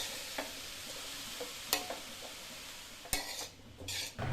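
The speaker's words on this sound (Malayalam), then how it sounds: "ഈ ചീരയും ഈ കൂട്ടും എല്ലായിടം പറ്റി പിടിക്കാൻ വേണ്ടി നമുക്കൊന്ന് ഇളക്കിയിട്ട് കൊടുക്കാം" Spinach being stirred with a spice mix in a pan, with soft scraping and a faint sizzle, punctuated by a few sharp metallic clinks of the utensil against the pan, fairly quiet and close.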